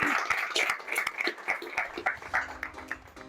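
Scattered applause from a small audience thanking a guest speaker at a talk on 1031 exchanges, a few distinct claps ringing out in a thin, uneven patter, with some background murmur.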